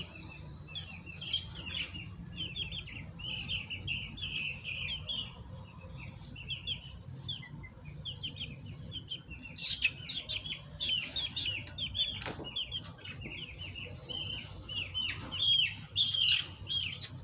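Small chicks chirp and peep in a busy, overlapping chorus, with occasional louder squawks standing out near the end, close by against a low steady background hum.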